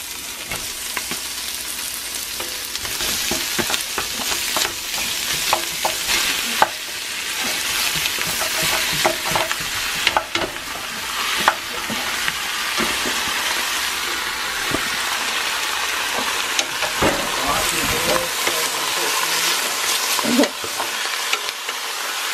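Beef sears with caramelized onions in a stew pot, giving a dense, loud, continuous sizzle. Repeated scraping and stirring clatter runs through it, and the frying eases off slightly toward the end.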